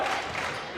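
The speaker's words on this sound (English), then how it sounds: "Crowd getting into it." Crowd at a high school boys basketball game, Triton against Lynnfield, roaring in a steady, dense wash of cheering that holds loud for under a second with no break.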